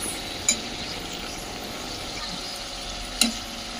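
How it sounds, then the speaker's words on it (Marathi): Homemade French fries frying in hot oil, a steady low crackling sizzle throughout with two brief clinks of a utensil near the start and end. "तर आता फ्रेंच फ्राईज कडक झाले पाहिजे मस्त कडक तेलात."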